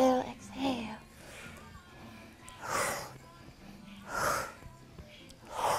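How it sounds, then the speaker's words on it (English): Slow, deep breaths, each inhale and exhale drawn out as a loud, breathy rush, repeating at an even pace a few seconds apart in a quiet setting during a guided exercise session. "Inhale, exhale."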